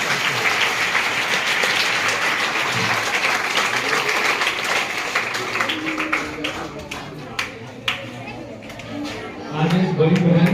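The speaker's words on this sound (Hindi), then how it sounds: "जोरदार ताली स्वागत कीजिए" Loud applause from a school audience welcoming a speaker at a teacher's farewell ceremony, dense steady clapping that thins and ebbs midway before swelling again near the end, with murmured voices underneath.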